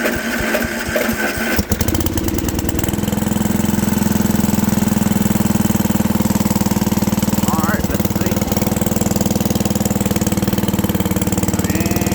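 A small carbureted engine runs steadily after starting, with a strong, even low hum and a slightly uneven sputter at first. People talk over it.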